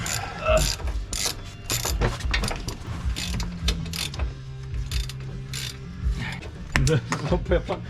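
A ratchet works bolts loose during a 2-inch lowering kit install on a 2002 Ford F150. It makes rapid, close clicking and clanking in uneven bursts, with people talking in the background.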